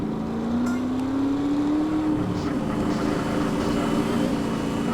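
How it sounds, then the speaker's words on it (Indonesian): Motorcycle engine racing in Grand Theft Auto on PS2, a steady droning roar whose pitch climbs smoothly for a couple of seconds, then holds a constant hum, with a voice faintly audible underneath. "ini kita balap lagi menggunakan motor"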